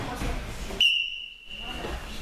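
A referee's whistle gives a single sharp, steady blast lasting under a second to start a match, cutting through murmuring room noise that returns after it.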